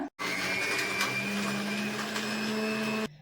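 Close, loud whir of a mixer grinder blending roasted dried red chilies and spices for sambar, a steady motor drone that starts abruptly, runs continuously for about three seconds, then stops.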